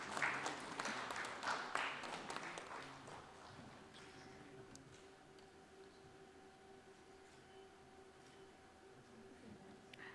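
An audience applauds at an award presentation during an analytics olympiad live stream, clapping fairly loud at first and then fading into a quiet hall with a faint steady hum.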